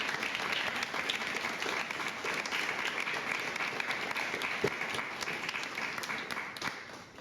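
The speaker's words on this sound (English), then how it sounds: "So a round of applause to everyone." Conference attendees at a mental health and performance event applaud together, a sustained, even wash of many hands clapping with occasional sharper individual claps standing out.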